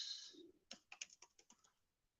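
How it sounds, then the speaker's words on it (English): Brief burst of typing on a computer keyboard: about eight distinct clicking keystrokes in quick succession, close and fairly clear, following a short hiss, with no talking. "Let me type it in."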